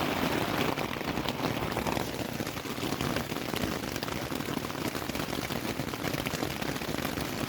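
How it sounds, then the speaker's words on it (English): Heavy rain pounds steadily on a camping tent during a solo overnight stay on a canyon trail near Mostar, a dense, unbroken patter close overhead with no let-up. "really a lot of rain that's coming down right now"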